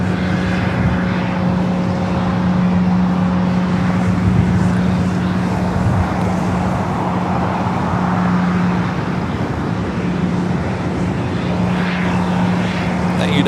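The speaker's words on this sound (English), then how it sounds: "That United at 757-300 coming from Chicago here, flight 576." United Boeing 757-300 airliner arriving from Chicago, a steady, loud broadband jet roar with a constant engine whine, filling the whole stretch without pauses.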